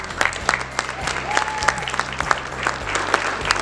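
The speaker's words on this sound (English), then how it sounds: "Big round of applause for all these scholars." A crowd applauds scholars at a school Medal of Honor awards ceremony, with steady, dense clapping filling the room for several seconds at moderate loudness.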